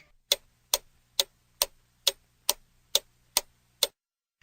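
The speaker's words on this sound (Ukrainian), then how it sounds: "цакає годинник." A clock ticks steadily, nine crisp even ticks about half a second apart, close and clear with no other sounds.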